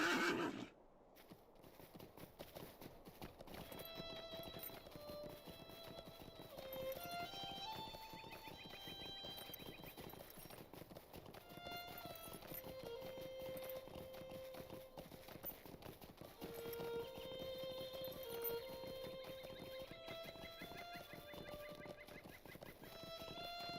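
Horse sounds inside the online game The Lord of the Rings Online near Brockenborn: whinnies and clip-clopping hooves over a steady bed of game music with tonal melody lines, fairly loud throughout with no talking.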